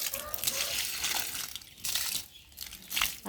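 Garden plants, including a papaya tree, being watered, a close splashing, gushing water sound rising and falling in bursts with some crinkling, while a person talks.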